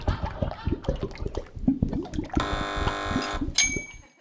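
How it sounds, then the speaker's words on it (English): A quiz contestant's electronic buzzer on a British comedy news panel show sounds as a loud, sustained harmonic blare, then a shorter second blast, cutting across ongoing studio chatter. "Buzzers on fingers."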